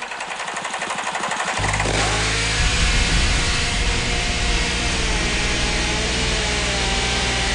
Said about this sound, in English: I didn't expect the engine to fire and run.